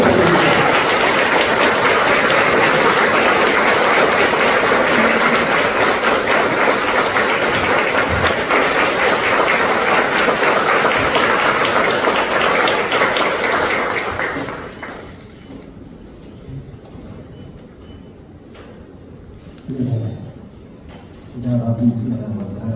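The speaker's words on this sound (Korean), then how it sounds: "큰 박수 부탁드립니다." An audience at a church press conference gives long, dense applause to welcome a church chairman to the podium; it holds strong for about fifteen seconds, then drops away, and a voice begins speaking.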